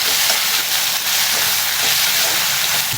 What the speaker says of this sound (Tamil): எண்ணெயில் வதங்கும்.